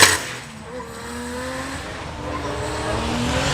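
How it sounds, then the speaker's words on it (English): JDM drift cars warm their tyres one by one at Oulton Park, a continuous engine drone with a rising whine and strained tyre squeal, moderately close and steady, swelling slightly toward the end. "they do some sort of tyre warming thing, one by one"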